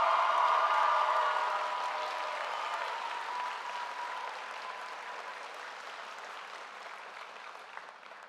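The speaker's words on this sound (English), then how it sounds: "Let's give Mr. Spear a nice round of applause." High school graduation audience applauding the senior advisor, a broad, sustained wash of clapping from a large crowd that slowly fades over several seconds.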